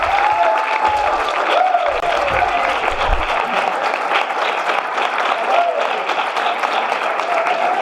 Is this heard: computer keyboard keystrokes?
no